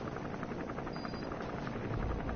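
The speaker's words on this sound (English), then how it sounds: "Got a helicopter to deal with." Helicopter in the Metal Gear Solid V: The Phantom Pain video game, a steady loud rotor drone with faint rhythmic chop, continuous throughout and without talk.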